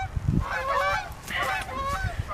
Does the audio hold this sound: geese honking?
yes